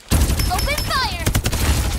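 Gunfire rattles in the shooter video game Farlight 84, a loud, continuous stream of rapid shots layered with game voice lines and other sound effects.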